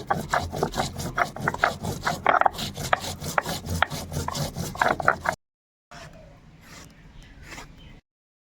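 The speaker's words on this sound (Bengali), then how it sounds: "গোটা জিরে আর গোটা ধনে একসঙ্গে বেটে নেব।" Whole cumin and coriander seeds ground together by hand, giving a steady rhythmic rubbing and scraping, close and fairly loud, then a brief pause and quieter grinding.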